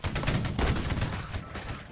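Musket volley gunfire from the video game Holdfast: Nations At War crackles as a dense, loud burst of many overlapping shots, rolling on continuously for about two seconds.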